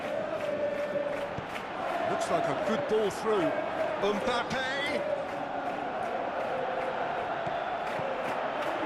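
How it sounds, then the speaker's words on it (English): A football video game crowd roars steadily in a stadium, a broad wash of cheering that swells briefly, heard under a commentator's excited play-by-play. "you can hear how the crowd are reacting to this too"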